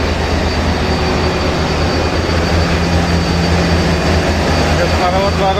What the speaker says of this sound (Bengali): তার পিছনে রয়েছে ইঞ্জিন রুম।